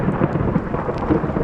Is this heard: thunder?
yes